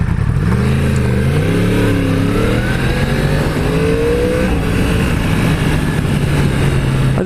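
A 2016 Yamaha YZF R1 litre-class sport motorcycle accelerates with the engine revving loudly and close, its pitch climbing and shifting through rising sweeps over a constant roar of wind and road noise.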